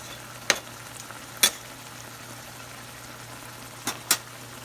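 Broth simmering down in a pan for a pork stir fry, a soft, steady low bubbling with a few sharp clinks of a utensil against the pan.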